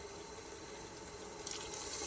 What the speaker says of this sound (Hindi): अब इसमें मैं थोड़ा सा पानी शामिल कर देती हूँ